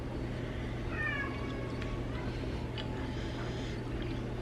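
A domestic cat lets out a short, faint meow or two in a kitchen, set against a steady low hum and quiet room noise.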